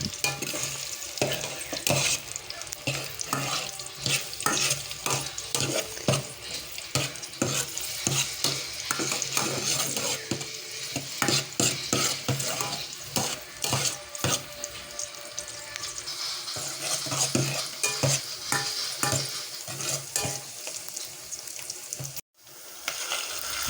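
Sautéing in a small amount of cooking oil in a pan before sardines go in, a continuous close sizzle broken by frequent rhythmic stirring scrapes and clatter, loud and without voices.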